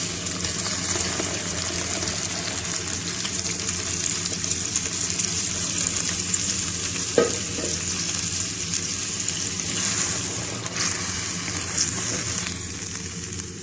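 Chicken karahi sizzles and fries in a clay pot over a village-style fire, with steady hissing, occasional stirring scrapes and a few brief clinks near the middle, close and continuous with no talking.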